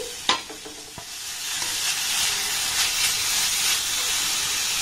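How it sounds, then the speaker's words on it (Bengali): Grated potato and carrot stir-fried in a hot pan, a steady sizzling hiss with a few sharp scrapes and clinks of the spatula near the start, continuous and close. "এবার এই কটা উপকরণ আমি একটু ভালোভাবে নাড়াচাড়া করে ভেজে নেব"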